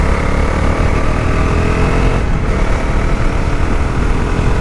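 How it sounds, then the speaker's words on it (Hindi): A 2025 Bajaj Dominar 400 motorcycle slows to a stop under braking, its steady engine drone loud and close with rushing wind noise. No one speaks. "Let's check the break. Okay, amazing breaking, बहुत स्मूथ तरीके से मोटरसाइकिल जो है वो रुक जाता है।"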